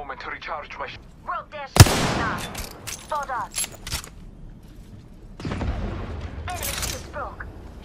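Loud gunfire from Apex Legends: one sharp, booming shot, then a longer burst of firing a few seconds later, with voice chatter and game sounds between them.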